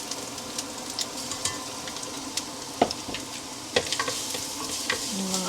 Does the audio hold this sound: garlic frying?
yes